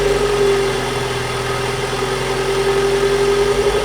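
A turbocharged LS VTEC Honda engine runs steadily close by with a constant mechanical drone and a faint whine, with no talking over it.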